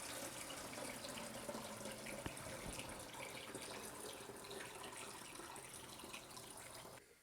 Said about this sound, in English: Let's go ahead and add in some of our juice from our third container just to bring our levels up a bit.